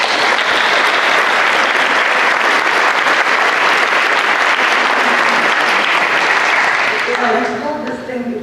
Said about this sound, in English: I think we owe Oliver and his group a really round of applause